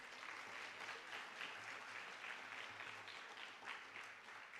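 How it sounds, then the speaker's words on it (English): Applause at a high school sports awards ceremony for a conference medal winner in discus: steady clapping from a crowd, heard faint and distant throughout. "Let's give a round of applause"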